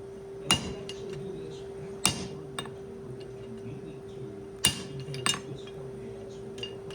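Hand-forging a skull bottle opener: a hammer strikes a steel cutoff in four sharp metallic blows at uneven intervals, clear and close over a steady background hum.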